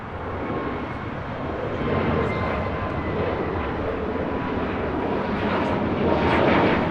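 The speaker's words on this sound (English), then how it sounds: "This is Viva Aerobus 623 taking off to Monterrey" A Viva Aerobus Airbus A321neo taking off from LAX roars as a loud, broadband continuous jet rumble that swells slightly toward the end, with no voices over it.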